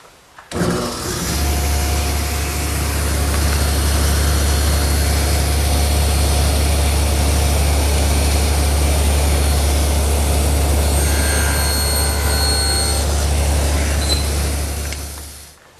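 Table saw running steadily for a long pass, cutting a shoulder on the back side of a wooden rail with the rip fence set close. The loud, constant motor hum and blade whine hold throughout, with no talk over them.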